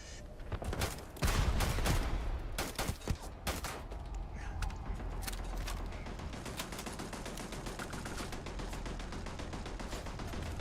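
A turret in Starfield fires off a long, rapid stream of shots, a dense rattling volley that starts heavy and keeps going steadily at a moderate distance.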